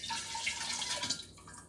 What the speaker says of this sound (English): And then add some more water to the bowl.